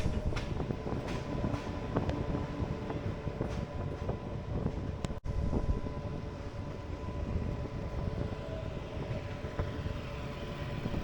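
Local train running from Kolkata to Puri, a steady loud rumble and clatter of the carriage continuing throughout with no talk, broken by one very brief dropout midway.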